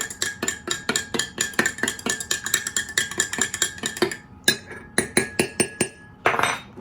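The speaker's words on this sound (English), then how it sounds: "You want to stir it up again." A plum wine mixture stirred in a glass vessel: a quick, steady run of bright clinks as the spoon knocks the sides, about three per second, briefly pausing before a final scrape and swirl.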